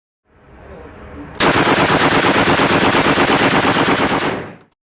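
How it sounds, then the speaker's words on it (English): MP40 machine pistols fire a long, loud sustained burst of rapid automatic gunfire in a war film scene, preceded by a brief rumbling build-up and cutting off abruptly. "blasting SS with not one but two MP40 machine pistols"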